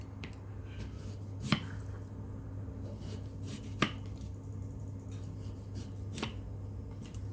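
Knife slicing through potatoes for Hasselback potatoes, giving three sharp, isolated cuts spaced a couple of seconds apart over a steady low hum in a home kitchen.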